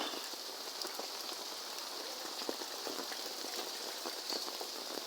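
Heavy rain pours steadily during a week of downpours, soaking a parked vehicle on a waterlogged street. It makes a dense, even patter with no pauses and no voices.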